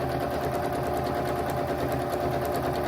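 A sewing machine stitches king-size pillow shams, its motor and needle running in a steady, fast, rattling whir close by, with no pauses.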